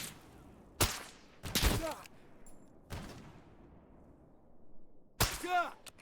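A Scout sniper rifle fires in S.T.A.L.K.E.R. GAMMA: four loud, sharp single shots spaced a second or more apart, each with a short ringing tail, over a quiet background.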